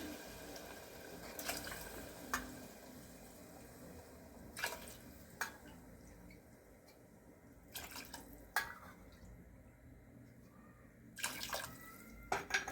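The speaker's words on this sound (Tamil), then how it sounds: "அதுக்கு நாலு கப்பு தண்ணி ஊற்றிக்கலாம்" Water is poured into a pot of rice and lentils in several short, quiet splashing bursts separated by pauses, with faint drips in a still room.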